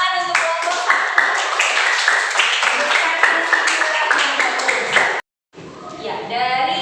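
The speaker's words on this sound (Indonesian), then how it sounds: "tepuk tangan untuk kelompok" Schoolchildren in a classroom clap for a student group: rhythmic, lively clapping mixed with children's voices and chatter, loud and close, before a brief silence and more voices.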